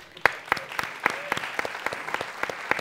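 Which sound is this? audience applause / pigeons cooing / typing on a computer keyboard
audience applause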